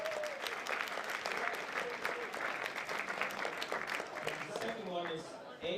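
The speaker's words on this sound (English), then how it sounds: "So let's give a big round of applause." Steady audience applause fills a climbing wall competition final, dense clapping holding at an even level throughout, with faint voices mixed in beneath it.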